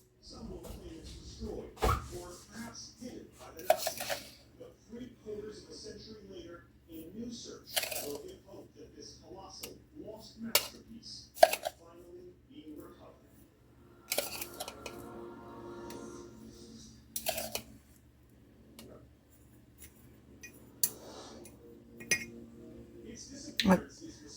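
A spoon scrapes and clinks against a cup while pineapple cheesecake filling is scooped into it, giving scattered bright clinks and taps over a low steady background hum, with a voice talking through much of it.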